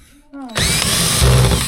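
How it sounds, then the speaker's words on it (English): A cordless power drill whirs steadily in bursts while driving screws on a tour bus conversion, starting after a brief quiet moment and a short voice, then running loud and close with a slight pitch rise near the end. "Nicole learns how to use a drill"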